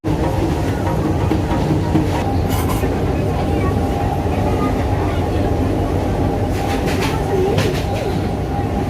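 A passenger train rolls along the rails at Deshapran station, a steady loud rumble with faint clatter and brief higher squeals, while voices murmur underneath.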